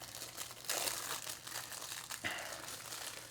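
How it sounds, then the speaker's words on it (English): A thin plastic sleeve holding a raw titanium Gravitas Sentry fountain pen crinkles and rustles close up in a few quick handled bursts, with no voices. "It's in a little plastic sleeve here."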